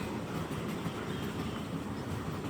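A train near the railway line crossed on the way to Katiki waterfalls in Araku Valley gives a faint, steady, distant rumble with no talk.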